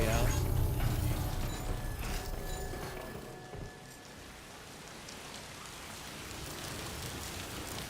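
Steady rain falling in the video game Death Stranding 2, a broad hiss that is louder at first and then settles lower, with someone talking over it.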